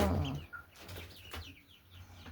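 A few backyard hens and a rooster make soft, faint clucks and short chirps close by, with a little rustling and no talking.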